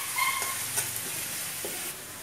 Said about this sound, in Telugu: ఇది బాగా వేగాలి.